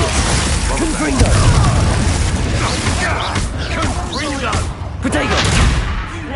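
Confringo explosive spell blasts in Hogwarts Legacy amid camp combat, a string of booming pops and crackling bursts over dense game sound, with creaking and impacts throughout.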